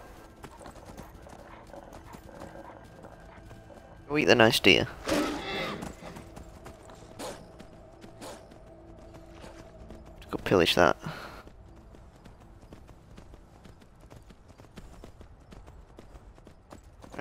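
Steady clip-clop of horse hooves at a trotting rhythm in a video game, with someone talking over it and two louder bursts of noise partway through.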